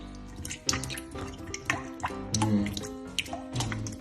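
Rainwater drips into a room, giving a series of close, distinct drops that fall at an irregular rhythm onto the water below, with no voices heard.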